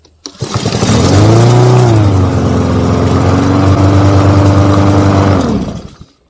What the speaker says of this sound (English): Fires right up. Great engine.